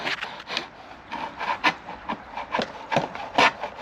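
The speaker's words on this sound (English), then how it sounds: "A blunt homemade chisel." A blunt homemade chisel cuts into wood turning on a pole lathe, making rhythmic rasping scrapes that rise and fall with each stroke, close and fairly quiet.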